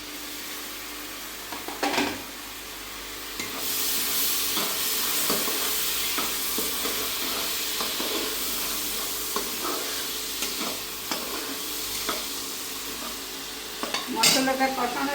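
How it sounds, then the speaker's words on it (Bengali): Spice masala of coriander powder and a splash of water is stir-fried in a pan for sea pomfret fish curry. It makes a constant close sizzle and hiss, with scraping spatula strokes and occasional clinks against the pan. "এখন মশলাটা কষাইতে আমি একটু দেবো"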